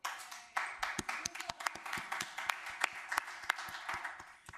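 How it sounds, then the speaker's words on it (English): Applause at a county board meeting, a modest, fairly quiet round of separate hand claps from a small group in a meeting room, with no talking over it. "It actually is worth applause."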